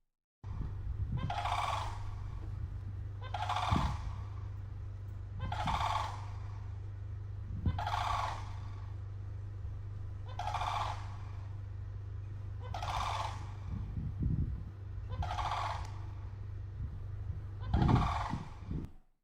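A turkey gobbles in eight evenly spaced loud calls over a steady low hum, with no talk.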